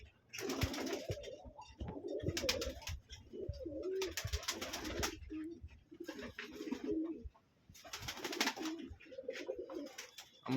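Several racing pigeons coo in a loft in deep, repeated rumbling calls, close by and overlapping, with occasional brief rustling bursts between them.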